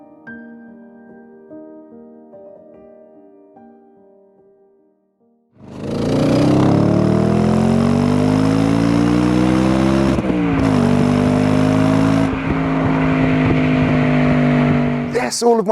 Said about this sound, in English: This is Audi UK's cherished B7 RS4 Avant